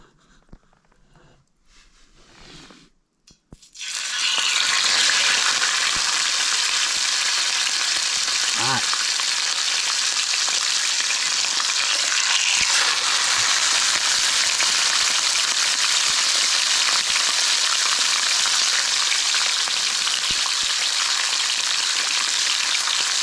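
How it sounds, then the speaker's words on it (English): Fish frying in a pan at a fall campsite in the Boundary Waters Canoe Area: after a few quiet seconds, a loud, steady hiss and sizzle erupts and holds close up without pause. "So we are going to put the fish in."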